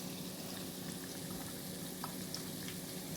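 Pork fat rendering into lard in a pan gives a steady, fine crackling sizzle with small scattered pops, close and continuous with no talk.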